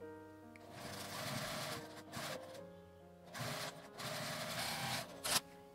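A sewing machine stitches a 1 cm seam along the top edge of lining fabric for a small eyeglass pouch, a quiet whirring hum in short runs with pauses and a light click near the end.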